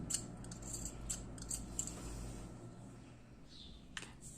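Small scissors snip the yarn ends of a crocheted baby hat piece, several quick close snips in an irregular rhythm over a faint steady hum, with no talking.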